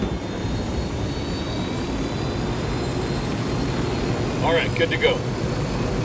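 An aircraft engine in the video game Ghost Recon Wildlands drones loudly and continuously, a steady broadband roar while someone speaks briefly over it near the end.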